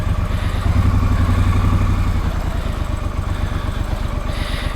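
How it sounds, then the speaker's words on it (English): A Triumph Scrambler 1200 motorcycle engine runs just after a jump start, a loud close rumbling idle with a fast even pulse and mechanical clatter, holding steady throughout with no talk. "Basically, you leave the clutch, the bike starts."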